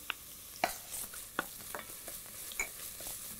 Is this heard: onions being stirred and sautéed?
yes